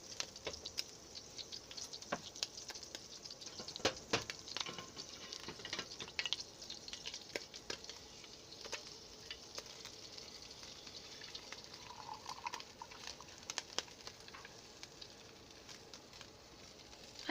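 Hot grease sizzling in a skillet after cooking pork and potatoes, a steady faint crackle with scattered pops and spits running throughout, no voices.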